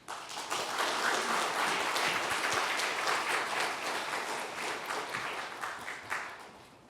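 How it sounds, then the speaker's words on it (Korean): A congregation at a New Year special dawn prayer service bursts into sustained, even applause to welcome Pastor Kim Tae-kwon, the clapping swelling quickly and tapering slightly toward the end. "이 시간 우리 김태권 목사님 나오실 때 박수로 한번 맞아 보겠습니다"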